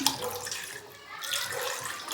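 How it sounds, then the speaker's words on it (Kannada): Two glasses of water pour into a pan holding half a kilo of jaggery, making a steady splashing rush with a brief dip midway. "ಎರಡು ಗ್ಲಾಸ್ ನೀರು ಹಾಕ್ತಾ ಇದ್ದೀನಿ"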